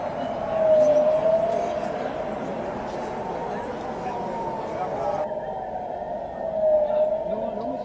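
A far-off rocket warning siren wails faintly, its tone rising and sinking slowly beneath a steady low rumble of background noise.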